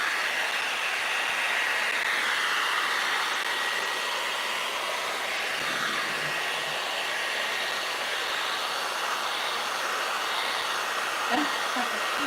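Steady close whoosh of a hair dryer drying paint on a vintage window, running continuously with no break and no talk.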